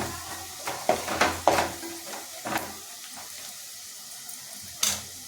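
Red chili powder sautéing in hot oil for Marathi-style masoor dal amti, giving a soft sizzle broken by several sharp clinks and scrapes of a spoon against the pan, with a final louder knock near the end.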